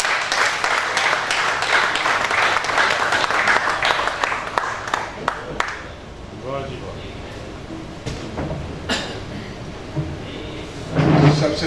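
Audience applause at an Urdu poetry mushaira, a dense burst of clapping that fades after about five seconds, followed by scattered claps, room noise and soft voices.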